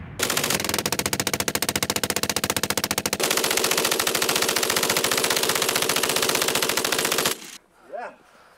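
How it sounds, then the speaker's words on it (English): A German MG-42 machine gun fires a long, extremely rapid continuous burst, loud and close, with the rate of fire shifting slightly partway through before stopping abruptly into quieter tail noise. "The MG-42 was a simple, reliable killing machine."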